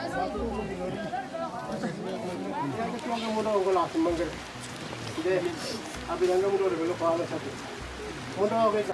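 Rain falls at a remote airstrip, a soft steady patter with people talking over it throughout.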